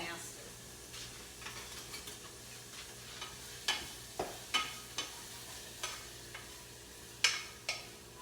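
Garlic sizzles quietly in a pan under a soft, low background hum, while a utensil taps and scrapes against the pan in scattered knocks.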